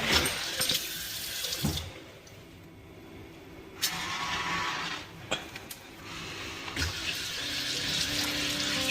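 Tap water runs into a sink in a large, clean airport bathroom at Changi Airport, Singapore, steady and close, with brief clatters and room noise in between.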